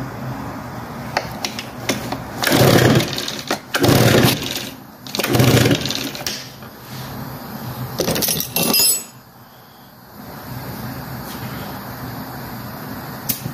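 A PB-580T small engine is pull-cranked during a compression test. Several loud, harsh bursts of cranking come in quick succession, each lasting about a second, followed by quieter background, with no talking.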